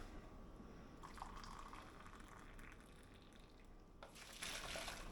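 Water trickles and splashes into a bowl, quiet and close, with a brief louder gush near the end.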